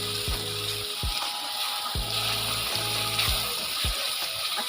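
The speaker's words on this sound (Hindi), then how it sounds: "अच्छे से मिक्स करने के बाद 1 मिनट से ऐसे खिलाई फ्राई करना है" Spice masala fries in a pan for a chicken kofta dish, a steady hissing sizzle with repeated knocks and scrapes as it is stirred, several distinct clacks spaced through the clip.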